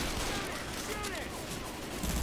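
Dense gunfire from survivors shooting at the Tank in Left 4 Dead 2, a rapid continuous crackle of overlapping shots with shouting voices mixed in throughout.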